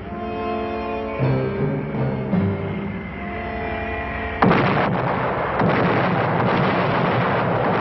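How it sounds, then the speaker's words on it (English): Archival war footage of intense aerial bombing over Nanking, opening on sustained musical tones before a loud, continuous broadband rumble of explosions takes over partway through and rolls on to the end. "Nanking was subjected to the most intensive aerial bombing ever seen up to that time."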